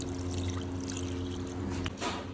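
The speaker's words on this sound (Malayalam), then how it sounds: "നമ്മൾ ഇറച്ചി വേവാനായിട്ട് ലേശം വെള്ളം ഒഴിച്ച് കൊടുക്കാം." Water pours steadily into a pot of beef being cooked for dry fry, a close, continuous trickle with a brief splash near the end.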